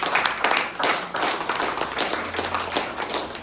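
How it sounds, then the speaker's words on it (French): A congregation claps during a Sunday church service, a run of sharp, fairly close claps in an uneven rhythm that keeps going throughout, with a faint low hum in the background. "Acclame fort pour toi ce matin."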